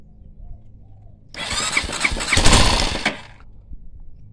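A 230cc motorcycle engine swapped into a Honda CTX200 frame catches on starting fluid, revving raggedly for about two seconds close by before dying back to quiet.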